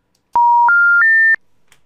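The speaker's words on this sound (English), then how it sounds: "If we dial *97 for voicemail, the same, and *9664." Four telephone DTMF keypad tones dialing star codes on a FusionPBX phone system, each a short steady beep stepping slightly higher in pitch, evenly spaced, close and clear, then near silence.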